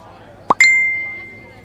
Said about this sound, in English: As she checked out, her phone buzzed